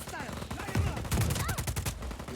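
Rapid gunfire bursts crackle in Just Cause 4, moderately loud shots in quick clusters mixed with the sounds of other gameplay while someone talks over them.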